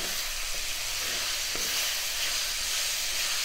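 Onions sautéing in oil in a pan, a steady, even sizzle with hiss that runs unbroken throughout, close and fairly loud with no voices.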